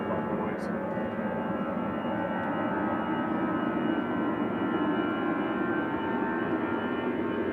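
Rolls-Royce RB211 jet engines on an airliner at Manchester Airport give a steady, broad roar with a high whistling whine, moderately distant and continuous throughout.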